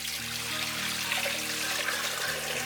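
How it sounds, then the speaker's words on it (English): Cold water runs into a pot holding glass jars, a steady close rushing pour with a low hum beneath it and no speech. "Add cold water."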